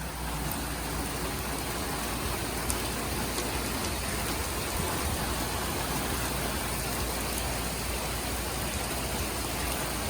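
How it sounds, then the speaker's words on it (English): Steady heavy rain pouring down during a storm, a dense continuous hiss with occasional faint ticks, outdoors in a work area. "it's storming pretty good out here."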